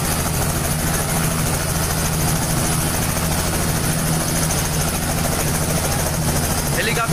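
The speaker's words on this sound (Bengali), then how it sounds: "হেলিকপ্টার উঠছে কিন্তু দেখানোর চেষ্টা করছে আপনাদেরকে।" A helicopter lifts off from a school field in Tangail carrying a bride, its rotor chop and engine roar loud and steady throughout, with a crowd and talk faintly underneath.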